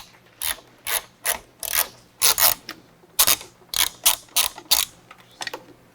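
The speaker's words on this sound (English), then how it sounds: "the ball end makes it real easy to get in and get that one loosened up" A ball-end hex wrench ratchets a bolt loose on a Harley-Davidson Touring motorcycle during a stereo install, a close, evenly spaced series of about a dozen sharp metallic clicks.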